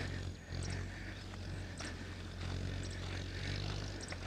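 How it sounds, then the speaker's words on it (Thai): Tractor plowing a sandy loam field in rural Thailand, a steady low engine drone with a strong rumbling hum, heard from some distance and fairly faint, with occasional sharper knocks over the continuous motor. "นี่รถไถเริ่มไถแล้วอะ"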